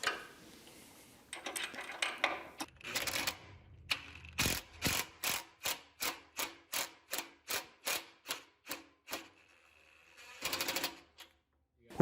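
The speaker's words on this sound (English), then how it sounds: "I'm going to use the impact driver to tighten it down" An impact driver tightens a bolt and nut on a Cuthub workstation beside a saw table, giving a quick series of sharp, evenly spaced bursts of hammering, loud and close, with a few rougher bursts before and after.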